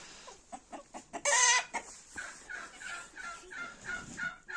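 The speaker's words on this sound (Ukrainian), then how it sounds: "гонить кури, які вийшли на ту сторону" Laying hens cluck in quick, choppy bursts nearby as a dog drives them, with one louder squawk partway through, then softer repeated clucking continues, in first snow.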